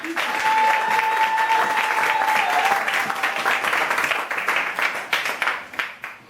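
Audience at a church crusade in the Central African Republic applauding, a loud sustained wash of clapping with a held tone early on, thinning into scattered claps at the end.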